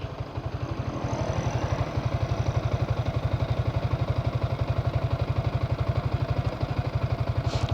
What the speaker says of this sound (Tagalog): pakinggan nyo yung ano yung tunog ng makina ko kung may problema ba siya sa tensioner